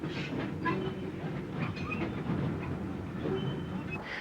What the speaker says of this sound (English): At Robertsbridge, a bullied Q1 passes the Little Terrier.